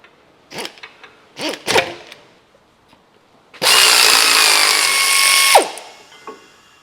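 A wrench and a power tool remove the 15mm bolts from an MG3 front brake bracket: a few sharp metallic clicks and knocks up close, then a loud sustained whirring burst of about two seconds that cuts off with a squeal.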